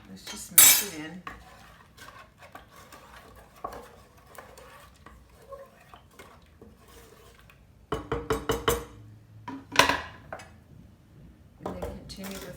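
A spoon stirs eggnog in a cup with repeated light clinks and scrapes, broken by a few louder clattering bursts, close by.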